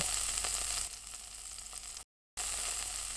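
Meat sizzles on a grill in the Yakiniku Simulator mobile game, a steady, close frying hiss that dips slightly partway through and cuts out for a brief instant before resuming.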